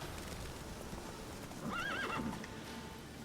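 Roach, Geralt's horse in the Witcher 3 game, lets out a clear wavering whinny midway, set against a soft steady background of hoofbeats and ambient game sound, with no talking.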